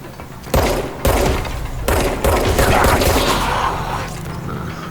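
Gunfire in the video game Control: a few loud, sharp shots spaced out at first, then a denser stretch of rapid firing that fades toward the end.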